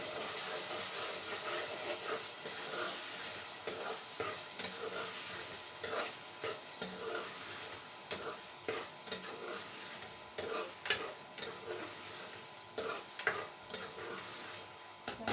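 Masala with tomatoes stirring and roasting in a pan for a chicken curry, a steady sizzle broken by frequent scraping spoon strokes, close and fairly quiet, with no talk.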